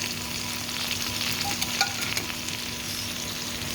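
Pork sizzles and crackles steadily in a dry pan with no oil, a close, even frying hiss with small pops and occasional stirring clinks.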